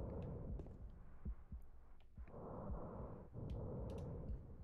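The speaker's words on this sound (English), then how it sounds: "something pounding to the rhythm of a heartbeat" A heavy heartbeat-like thudding pounds through a room in the video game Silent Hill 2, low and muffled with a steady throbbing rhythm under a breathy ambient whoosh, and no voices.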